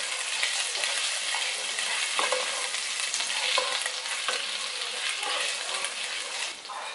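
Rice with chopped ginger fries over high heat in a pan, a steady dense sizzle with scraping stirs running throughout, close and fairly loud with no talking.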